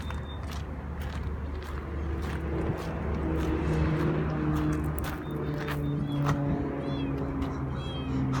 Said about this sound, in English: Pardon the cat, he's a talker.